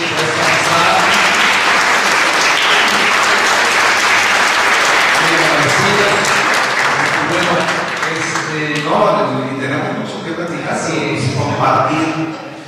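A church audience at an Anglican gathering gives loud, sustained applause that fades after several seconds into voices talking and murmuring nearby.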